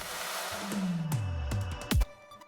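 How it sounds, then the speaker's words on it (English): A reverse chaos saw synth plays in a dance remix: sweeping, descending buzzy saw tones with sharp swells cutting off abruptly, several reversed hits in a row, with no voice. "There's the reverse chaos saws,"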